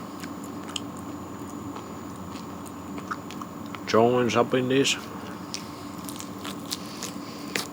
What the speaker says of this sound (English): Gives a nice little crunch. And the skin is tough to chew.